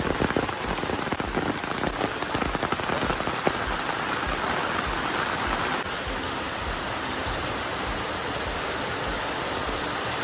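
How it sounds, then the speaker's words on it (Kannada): Steady rain patters on a surface close by, a dense continuous hiss that stays even throughout with no voices. "ಈಗ ಇಲ್ಲಿ ಮಳೆ ಬರ್ತಾ ಉಂಟು"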